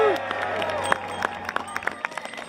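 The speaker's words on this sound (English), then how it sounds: "So let's just give them a quick cheer just now to the pop volunteers." A crowd cheers and claps for volunteers at the Pedal on Parliament 2017 cycling rally in Edinburgh, a burst of whoops fading into scattered applause, with a voice briefly heard at the start.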